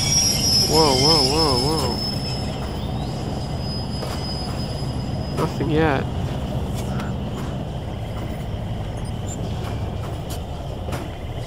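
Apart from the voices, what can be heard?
train rolling and slowing in the video game Crysis Warhead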